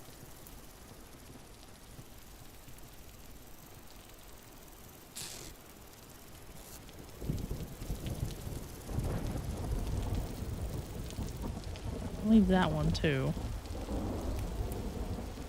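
A thunderstorm with rain in Vintage Story, steady rainfall that swells midway with rumbling thunder rolling in and peaking near the end, while a person speaks briefly over it.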